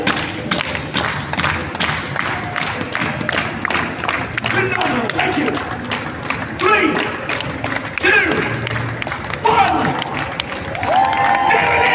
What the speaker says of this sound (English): Ladies and gentlemen, everyone, give us a slow hand clap.